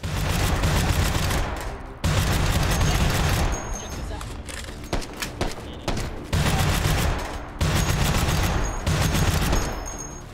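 Heavy gunfire from big guns in the VR shooter Hot Dogs, Horseshoes & Hand Grenades, several long dense loud bursts of rapid shots separated by brief gaps, with someone talking over the shooting.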